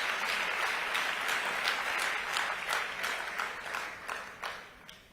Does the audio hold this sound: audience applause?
yes